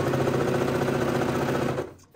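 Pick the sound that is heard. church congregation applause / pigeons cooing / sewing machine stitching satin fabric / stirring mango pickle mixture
sewing machine stitching satin fabric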